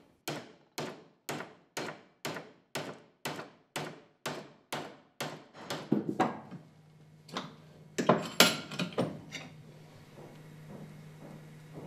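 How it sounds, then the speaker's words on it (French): A heavy hammer strikes a steel bar clamped in a vise, about a dozen sharp, evenly spaced blows that later turn quicker and more irregular, with a faint ring between hits. "Utilisez éventuellement un marteau lourd pour obtenir l'angle exact."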